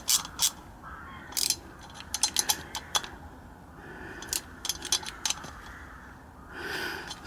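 Nuts tightened onto a Honda 50 C100 engine during reassembly: a series of close, sharp metallic clicks and ratcheting bursts in irregular clusters, with quieter handling noises between them.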